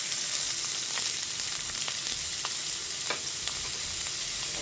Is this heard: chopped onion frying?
yes